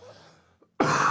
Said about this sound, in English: The cough always makes it worse, right?